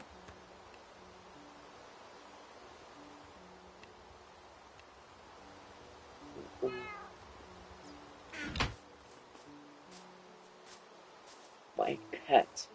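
A house cat gives a single short, faint meow in a quiet room, surrounded by soft rustling and a few knocks, while a person speaks briefly nearby.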